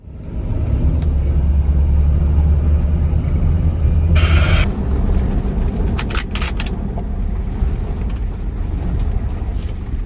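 A vehicle runs down a dirt track in the bush with a loud, steady engine and road rumble, tyres and body rattling, and a few sharp clunks and knocks partway through.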